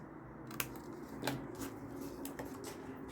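Scissors snip through kraft card in a few short, crisp cuts at close range, each a quick bright snap over a faint steady background hum.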